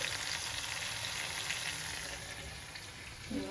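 Spice paste for a Bengali radish curry (mulor ghonto) sizzles in a pan with a soft, even, continuous frying hiss, and a faint low tone rises at the end.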